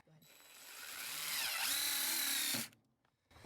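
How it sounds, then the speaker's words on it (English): A power screwdriver drives a screw into white plastic trim, a steady rising whine that builds for about two seconds before cutting off abruptly, with no talk over it. "Watch how this screw sinks into the plastic."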